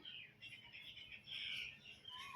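Faint pigeon calls and soft squawks from a Madras pigeon over a low, steady background hiss, close but quiet.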